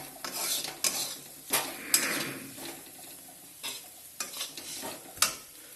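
Chaat masala and garam masala frying in a pan, sizzling under irregular scraping and clinking stirring strokes of a utensil against the metal, heard close with no talk.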